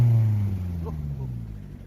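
Deep, loud drone of a Vauxhall Astra H 1.4 SXi exhaust with the muffler (backbox) and resonator deleted, idling close by and easing off slightly as it holds steady.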